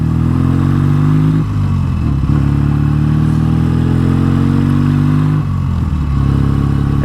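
A BSA A10 Super Rocket motorcycle engine runs loud and steady close by, its deep throb rising and falling as the throttle is blipped and eased through gear changes, with no talk over it.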